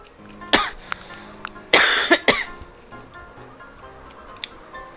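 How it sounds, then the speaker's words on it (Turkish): A few sharp coughs from a person with something caught in the throat, one single then a close cluster of two or three, with faint ticking sounds in a quiet room. "Boğazıma bir şey kaçtı. Ondan beridir öksürüyorum."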